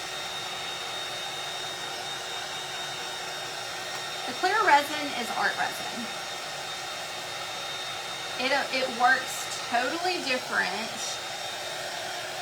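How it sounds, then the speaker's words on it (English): A hair dryer blows over clear art resin in an IOD Les Cloche mould, rising in two louder bursts of whooshing airflow while someone talks over a faint background hum. "you can use your dryer to help it seal"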